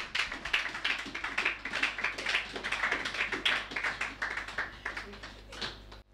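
A church congregation applauding and cheering in praise, dense rhythmic clapping that rises and holds for several seconds with voices mixed in.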